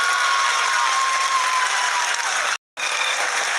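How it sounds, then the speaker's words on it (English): A crowd applauds the Chandrayaan-3 landing, dense continuous clapping filling the room, cut by a brief silent gap before it resumes. "People are applauding."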